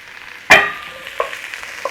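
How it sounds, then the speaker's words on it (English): Vegetables and onions being stir-fried in a hot pan, opening with a sharp sizzle burst as they go in, then a softer frying hiss with a few spatula scrapes and taps. "onions in, all of it. Little stir fry on all of this."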